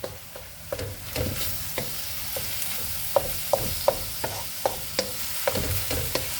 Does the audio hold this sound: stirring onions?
yes